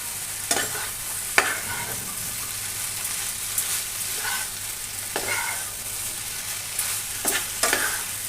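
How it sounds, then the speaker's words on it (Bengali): Ridge gourd (chichinga) sizzles steadily as it fries in a pan, with intermittent scraping strokes of a spatula stirring it, close and moderately loud. "কিছুক্ষণ ভালো করে নেড়ে চেড়ে কষিয়ে নেব"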